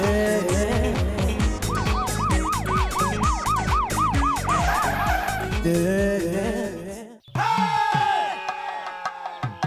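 An ambulance siren sound effect wails in loud, rising and falling sweeps layered over rhythmic thumping music, cutting off briefly near the end before resuming with a steadier tone.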